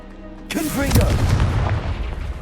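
A Confringo fire-blast spell in the Hogwarts Legacy video game, a sudden loud explosion bursting in after a quiet hum, followed by a sustained roaring, crackling rumble.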